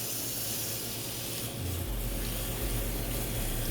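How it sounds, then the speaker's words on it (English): A garden hose on soaker setting watering a newly transplanted plant, giving a steady close hiss of spraying water with a low rumble that rises partway through. "And we're just going to water this really, really well."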